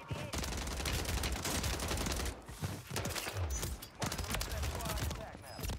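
Rapid automatic gunfire from an FJX Horus in Warzone 3 on Rebirth Island, loud dense bursts of close shots broken by a few brief pauses.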